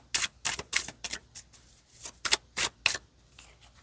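A quick series of about a dozen crisp riffling bursts, close and bright, as a deck of tarot cards is shuffled repeatedly.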